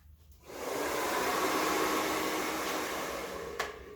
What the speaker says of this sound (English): Now, with our blow dry complete, nice natural look for the day